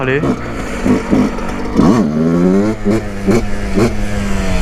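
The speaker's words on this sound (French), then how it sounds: "Je vous fais un dernier wheeling pour la fin" Yamaha YZ125 two-stroke dirt bike revving hard for a wheelie, engine pitch sweeping up and down in several bursts close to the mic, with a voice calling out briefly over it.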